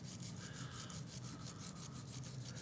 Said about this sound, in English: I always like to hit the castings up with the brass bristle brush to unify the surface